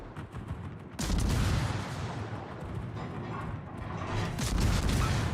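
Dive bombers dropping bombs on the heavy cruiser Atago in World of Warships: a quieter stretch breaks into a loud, sustained roar of explosions and rumbling blasts that swells again near the end.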